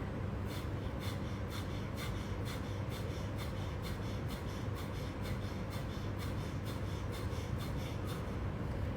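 Rapid, forceful nasal exhalations from a yoga breathing exercise, a steady train of short puffs at about two per second, close and continuous over a rough breathy background.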